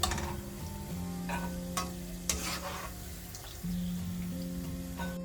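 Cashew nuts frying in hot oil for ghee rice, with a steady sizzle, a few clinks of stirring and a brief louder burst of frying near the end.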